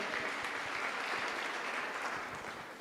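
A church congregation at Living Grace Church claps loudly and steadily, a dense unbroken patter of many hands that fades a little toward the close, with no voices on top.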